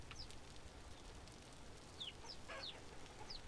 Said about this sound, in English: So we got some more chickens, or chicks that will hatch here in the next day or so.